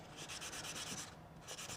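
An 800-grit sanding stick lightly rubs the gasket face of an RC car differential housing, making a soft, steady scratchy stroking that repeats in even passes, quiet and close, with no voices.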